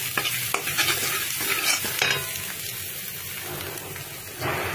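Prawn masala with yogurt sizzling and frying in oil, stirred steadily in a pan, a continuous close crackle with scraping strokes throughout and no talk.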